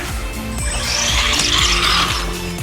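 Brushless 4WD RC rock racer driving on wet grass, a high electric motor whine repeatedly surging and falling in quick bursts as it accelerates and jumps, loud and close, with no talking.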